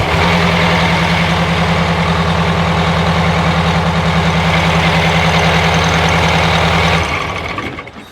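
A tour bus diesel engine, started from a switch at the rear, idles loud and close with a steady low throbbing rumble, then cuts off after about seven seconds and winds down.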